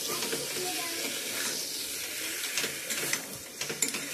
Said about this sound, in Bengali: এখানে চিকেনটা কষিয়ে নিচ্ছি।